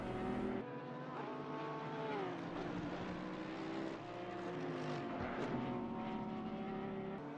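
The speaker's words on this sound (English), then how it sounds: "Oh, these cars sound great." Race car engines roar past at Donington during a one-hour race, their pitch climbing and falling as they shift gears. A continuous, fairly distant wail with no voices.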